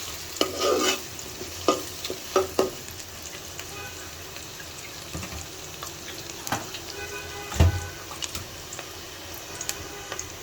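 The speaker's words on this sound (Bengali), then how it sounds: "পেঁয়াজের সাথে মশলাগুলো একটু ভেজে নেবেন" Spices and onions fry for a chicken curry, a soft sizzle under repeated spoon stirs and scrapes against the pan, with louder clanks near the start and a thud midway; a voice talks faintly at times.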